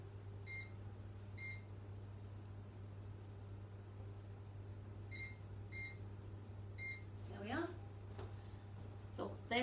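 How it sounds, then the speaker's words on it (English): An oven timer is set with a series of short, crisp electronic beeps in small groups, close and clear over a steady kitchen hum, followed by a couple of soft clicks or bumps. "Set the timer."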